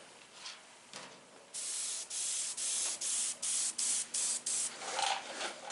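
An airbrush sprays paint onto a DIY copper hood while flames are painted on, a series of short, evenly spaced hissing bursts, close and fairly loud.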